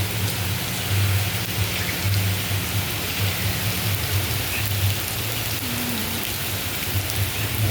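Heavy rain falls steadily and loudly as a dense, continuous hiss with a low rumbling undertone, with no voices over it.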